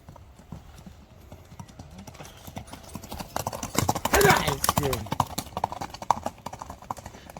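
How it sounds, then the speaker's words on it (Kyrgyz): Horse galloping for a sale demonstration in a Kyrgyz village, a young black horse with a white blaze; rhythmic hoofbeats clip-clop under steady talk, with wind and a loud close burst midway. "Мынакей туугандар, атты чабып көрүп атабыз."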